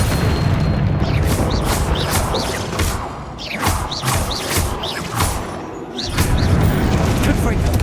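Explosive spells going off in the video game Hogwarts Legacy: a string of loud booms and whooshing blasts, close and heavy, with a voice shouting between the bursts.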